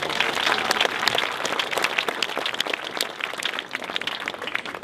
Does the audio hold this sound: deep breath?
no